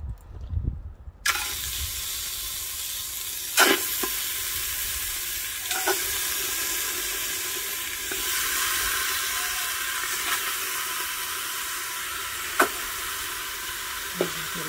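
Meat sizzles in a cocotte pot over a charcoal kanoun while Fez-style mrouzia is prepared. A loud, steady frying hiss begins abruptly and carries on, broken by occasional sharp clicks and knocks of a utensil against the pot.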